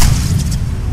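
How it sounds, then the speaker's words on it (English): Deep booming grenade blast in Mass Effect 3, loud and close, a short low rumble lasting under a second without voices. "I got him with a grenade."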